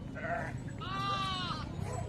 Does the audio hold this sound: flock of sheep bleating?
yes